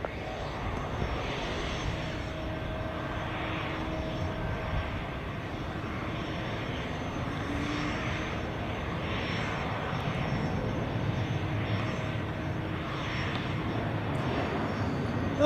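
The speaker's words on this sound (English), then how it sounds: "I've already seen longer takeoff runs of the A340" Airbus A340 jet taking off at Zurich Airport on a gusty crosswind day: a steady, sustained engine roar at moderate distance, broad and unbroken for the whole stretch and swelling slightly louder toward the end.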